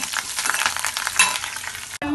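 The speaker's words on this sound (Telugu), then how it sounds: "వెల్లుల్లి ఎండుమిర్చి కరివేపాకు వేసేసుకొని బాగా ఫ్రై చేసుకుందాము" Garlic, dry red chillies and curry leaves frying in hot oil, a loud, dense, close sizzle with stirring scrapes and spits that cuts off abruptly near the end, with no speech.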